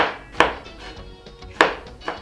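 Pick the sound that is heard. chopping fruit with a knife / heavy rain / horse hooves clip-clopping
chopping fruit with a knife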